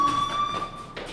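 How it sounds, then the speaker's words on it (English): In the video game Life is Strange, a fire alarm sounds as a thin, steady high-pitched electronic tone over faint room noise, then cuts off near the end. "Hey, do you hear that fire alarm? That means you should be outside."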